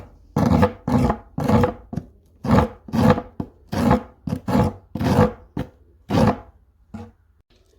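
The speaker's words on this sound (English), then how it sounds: "I'm making the edges smoother using the file." Hand file rasping along the edges of a wooden gym bench seat board: about a dozen rhythmic, close strokes, each a loud gritty scrape separated by short pauses.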